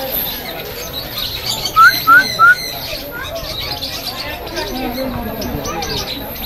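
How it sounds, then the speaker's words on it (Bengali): Parrots at a bird park giving three quick, sharp, rising chirps close together, heard over a murmur of people talking and crowd noise. "ওই যে ওইটা দেখো কি ডাকে পাখিগুলা"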